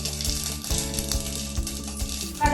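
Mustard seeds pop in hot coconut oil, giving scattered sharp crackles and ticks over a steady background hum at moderate loudness.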